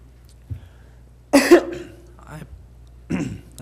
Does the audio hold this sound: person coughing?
yes